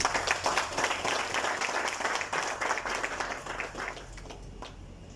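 An audience at a production line inauguration in Mauritius claps warmly for a Coca-Cola Africa executive, a dense even wash of applause that gradually thins and fades toward the end.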